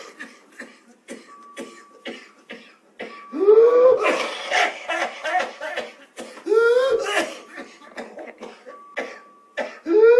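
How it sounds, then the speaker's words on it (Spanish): A person demonstrates a persistent, paroxysmal cough: bursts of harsh coughs and throat clearing come in repeated fits, close and loud, separated by short pauses. "lo que vemos es como una tos que no calma, como paroxística"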